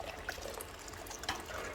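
Water is poured steadily over yarn during hand-dyeing, giving a continuous splashing, trickling wash with a couple of brighter splashes, close and fairly quiet.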